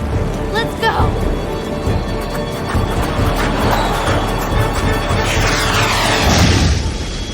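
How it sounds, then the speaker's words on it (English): A jet aircraft engine roars loudly throughout, with a rising whine and crashing rumble building toward the end amid other noise. "The jet!"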